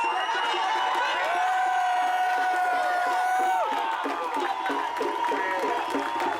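Crowd at a London protest in Trafalgar Square cheering and whooping loudly and continuously, with shouted voices rising and falling through the din.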